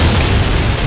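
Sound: explosion in the video game Time Crisis 4

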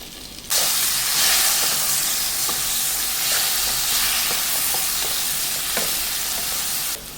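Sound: jackfruit pieces frying and stirred in ghee

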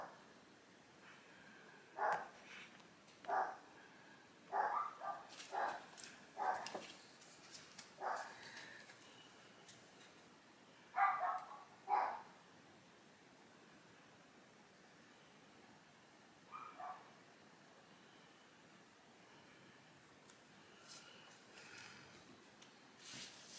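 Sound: dogs barking

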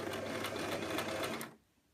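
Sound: sewing machine sewing a ruffle skirt seam

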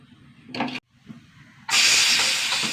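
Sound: pressure cooker whistling

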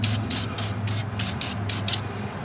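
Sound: spraying PB Blaster penetrating oil on strut bolts

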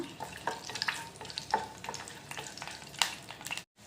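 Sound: frying urad dal and crushed garlic in oil

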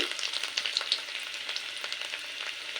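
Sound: chopped garlic and ginger frying in a pan

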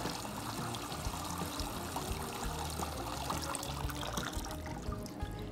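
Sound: water draining from washed kale in a colander

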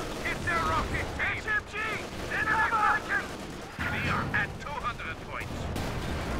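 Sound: rocket artillery firing in Company of Heroes 2 video game

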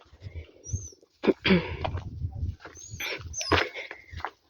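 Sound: dog whining

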